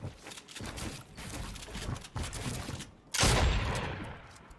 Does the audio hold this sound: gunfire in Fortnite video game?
yes